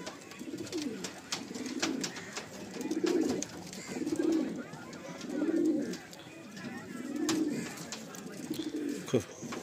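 Male pigeons cooing repeatedly inside a loft of Madrasi pigeons, a steady rhythm of close, low throaty coos roughly every second, with faint background chatter and movement.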